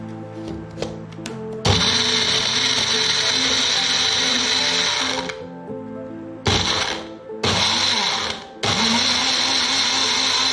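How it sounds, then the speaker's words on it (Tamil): A mixer grinder runs close by as it grinds sugar for a mango milkshake. A few clicks come first, then a long, loud whirring run, followed by three shorter bursts with brief stops between them. "சுகர் நம்ம அரைக்கிறது"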